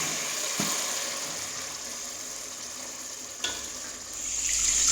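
Mutton sizzling in a hot pan over a village wood-fired stove after a spice paste: a steady, bright hiss with a couple of stirring knocks, swelling louder toward the end.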